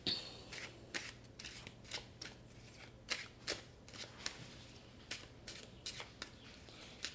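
Tarot cards being shuffled, a series of crisp riffling bursts at irregular intervals, soft and close in a quiet room, with no talking.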